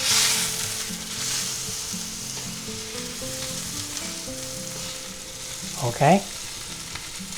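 Pork tenderloin searing in a hot pan gives a steady, close sizzle throughout, and a brief spoken word and some scraping come near the end as the meat is turned.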